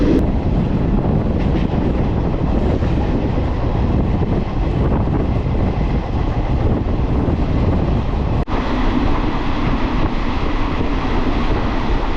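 Steady loud roar and rattle of the fast-moving Kalka-Howrah Netaji Express passing Bardhaman station, continuous rushing noise with wind buffeting throughout, no voices.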